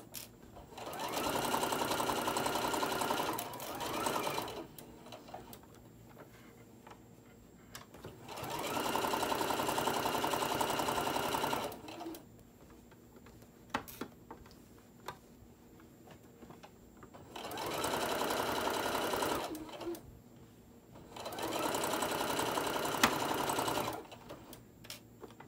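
A sewing machine stitches fabric for a bowl koozie in four bursts of rapid, buzzing needle runs, each a few seconds long, separated by quiet pauses with small handling clicks, recorded close and fairly soft.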